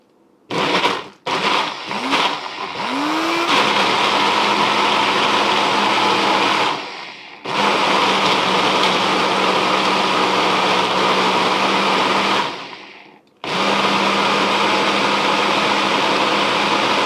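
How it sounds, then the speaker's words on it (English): Countertop blender blending a thick red, white and blue smoothie: a few short pulses, then three long loud whirring runs separated by brief pauses, the motor pitch dipping as the thick mixture churns. "Alright, so we got it on our blender and we go for it."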